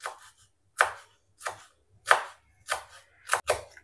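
A brand-new kitchen knife chops on a board in six sharp, separate strokes spaced roughly half a second apart, close and crisp against near silence.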